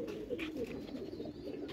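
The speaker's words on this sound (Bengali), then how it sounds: "এই কবুতরটা একটা স্পেশাল কবুতর।" A male pigeon of an unusual, rare type coos softly at a pigeon loft in Mirpur, a low steady burbling call running throughout without speech.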